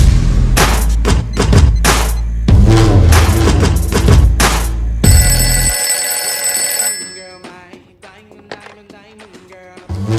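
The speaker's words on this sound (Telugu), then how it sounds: "daddy phone ring daddy" A telephone rings in a Telugu movie scene: a bright electronic ring cuts in for about two seconds right after loud music and voices, then gives way to quieter background sounds.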